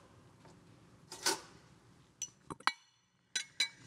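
A ladle clinks against the pot while stirring chickpea farro soup, giving a few soft scrapes followed by several sharp, close metallic clinks spaced irregularly in a quiet kitchen.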